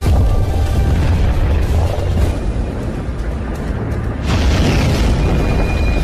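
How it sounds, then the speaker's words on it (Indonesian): An explosion in the game Dragon Raja as two attacks collide: a deep, sustained rumbling blast with heavy low-end boom, a brief dip, then a second surge of roaring explosion noise, loud and alone. "terjadi ledakan ketika kedua serangan tersebut saling berbenturan"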